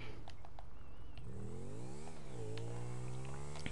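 A motorcycle engine in the video game GTA V revs up with a rising, buzzing whine that climbs, dips and climbs again, heard fairly faintly over a game backdrop.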